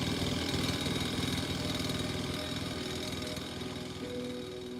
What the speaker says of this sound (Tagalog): Muli niyang pinaarangkada ang motor niya sa daan